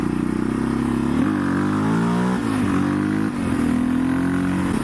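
A 2014 Yamaha Raptor 700 ATV engine revs hard and steady during a wheelie, loud and close, the pitch climbing and dipping with several throttle changes and no talking.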